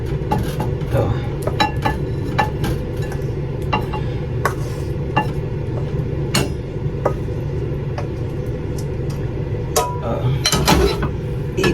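Dishes, pots and cutlery clattering and clinking near at hand as they are handled for washing, with short sharp knocks scattered throughout and occasional talk.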